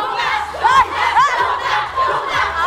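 An excited crowd of supporters shouts and cheers at a live morning television broadcast, loud overlapping yells and rising whoops in several surges, with voices mixed into the din.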